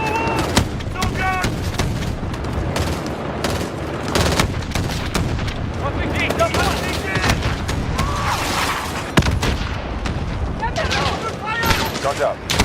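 Gunfire and booming blasts in a chaotic combat scene, dense continuous bursts layered with loud impacts that dominate throughout, with shouted voices mixed in.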